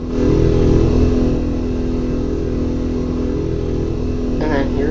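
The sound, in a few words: car engine starting up and driving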